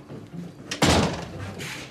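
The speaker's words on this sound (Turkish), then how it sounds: "rüzgardan kapı çarpmıştı," A door slams shut in the wind in a Turkish television drama, one sudden loud bang followed by a short rattling decay, with faint room noise before it.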